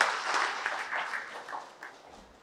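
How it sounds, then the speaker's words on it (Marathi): Applause from a church congregation at a novena Mass, thanking Father Leo Fergos; moderate, fairly close clapping that builds briefly and then tapers off over a couple of seconds, with no talk over it. "आपण जोरदार टाळ्या वाजवून फादर लिओ फर्गोस यांना धन्यवाद देऊया"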